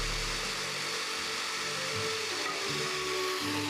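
A jigsaw cuts through wooden battens for a frame, giving a steady, loud buzzing drone that runs without a break, with small shifts in pitch as the blade moves through the wood.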